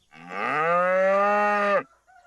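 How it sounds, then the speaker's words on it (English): A single cow in a field lets out one long, loud, steady moo close by, ending abruptly before a faint second call. "the works of James Herriot sees him startling cows in the fields around Wroxham and North Walsham"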